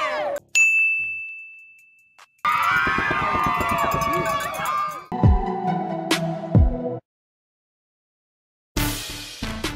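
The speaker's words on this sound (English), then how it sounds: "Bell on three." A school bell rings during a high school pep rally, sharp dings and a sustained metallic ring in bursts, with loud crowd shouting and clanging around it and gaps of silence between.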